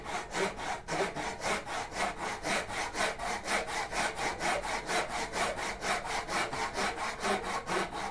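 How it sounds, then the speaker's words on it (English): A hand saw cuts wood for a half lap joint in a steady back-and-forth rhythm, each stroke a close, raspy rub repeated evenly about three times per second, with no talking. "And I'm going to cut down to that depth line."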